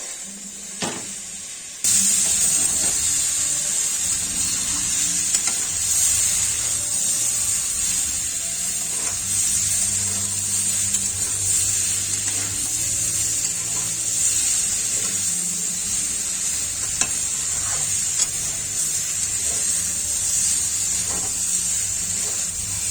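Spinach curry with potato, brinjal and radish frying in a pan, a steady sizzling hiss running continuously for the whole stretch with faint scraping from stirring, close and without talking.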